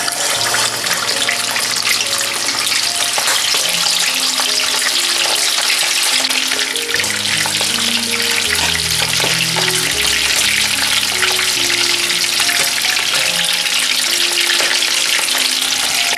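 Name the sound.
chicken drumsticks deep-frying in oil at about 180 degrees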